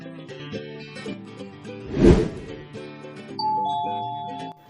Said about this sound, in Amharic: የአሊያ በር ደውል ይጮሃል